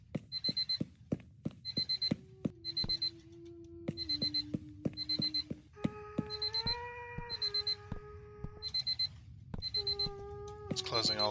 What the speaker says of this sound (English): that alarm clock is gonna drive me absolutely bonkers